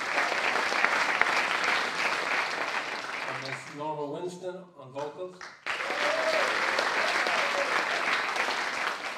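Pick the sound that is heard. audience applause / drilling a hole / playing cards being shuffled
audience applause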